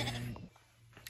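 A lamb bleats once on a farm, a short, near cry at the start that fades into quiet farmyard background with a few faint knocks.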